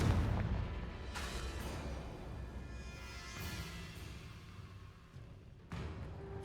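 A Confringo explosion spell in the Hogwarts Legacy video game: a dull booming blast followed by rumbling debris, with further sharp bursts later, all fairly soft and low.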